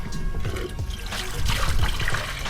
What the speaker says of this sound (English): squeeze all that water in there